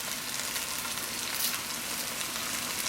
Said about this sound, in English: So this is my second fry, and I'm going to let this fry until it gets brown.